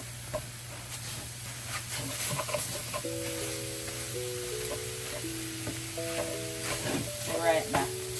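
Ground turkey with taco seasoning sizzling and frying steadily in a pan, stirred now and then, with a constant close hiss and occasional scraping throughout.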